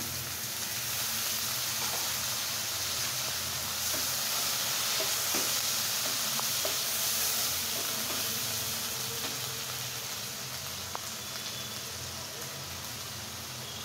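Onion paste frying in a pan, a steady broadband sizzle with faint stirring clicks throughout, fairly loud and continuous with no talking.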